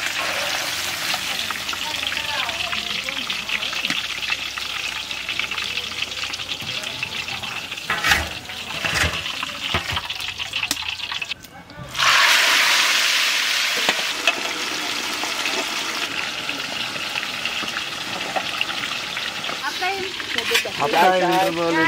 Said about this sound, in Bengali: তার জন্য হালকা করে একটু ভেজে নেবো আমরা।